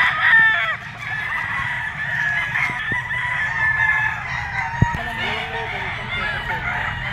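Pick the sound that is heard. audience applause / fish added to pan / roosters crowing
roosters crowing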